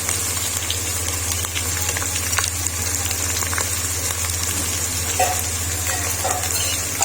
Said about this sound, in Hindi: अब थोड़ा थोड़ा हम पानी ऐड करके हम 10 मिनट के लिए हम मसाले को अच्छे से भून लेंगे।